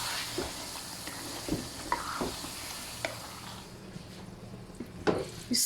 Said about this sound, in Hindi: तो इससे अच्छी तरीके से मिक्स कर लेंगे।